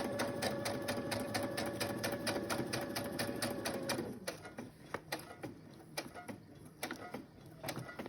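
A sewing machine stitches a lace-covered envelope pocket, its rapid even needle rhythm steady and close for about four seconds, then slowing into uneven clicks and ticks as the fabric is handled.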